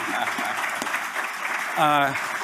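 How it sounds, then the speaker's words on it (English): A conference audience applauds a panel in steady, dense clapping that fills the room, with a voice breaking in near the end over the continuing applause. "You can clap for the panel."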